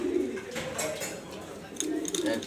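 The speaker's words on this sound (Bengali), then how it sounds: "এটা মাদি কবুতর" Pigeons at a Dhaka loft cooing close by, a low throaty burbling that swells twice over a brief moment, with faint voices in the background.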